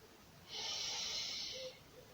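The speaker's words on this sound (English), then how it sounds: "By breathing deep in through the nose into the chest." One deep, steady breath drawn in through the nose, a soft close hiss lasting about a second, quiet against a faint background.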